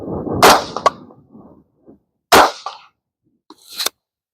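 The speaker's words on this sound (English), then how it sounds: "3 more rounds we're going to shoot here really quick" Three sharp rifle shots from reloaded rounds during load development, each a loud crack with a short decaying tail, the first two about two seconds apart and the third fainter, with silence between.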